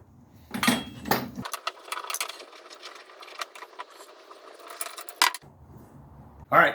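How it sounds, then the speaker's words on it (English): A pipe cutter is worked around a bike polo mallet shaft, making soft, close, scraping and ratcheting rasps with a few louder clicks and handling knocks at the start and finish. "I'm getting my pipe cutter on there."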